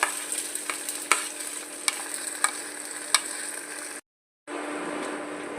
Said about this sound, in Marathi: तेल गरम झालं अर्धा चमचा जिरं बॉईल केलेले मटार